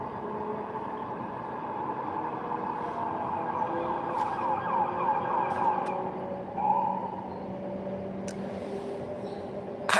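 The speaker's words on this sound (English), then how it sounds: "Hear the sirens?" A wailing emergency siren drifts in from a distance, steady and moderately faint, rising and falling under light background noise.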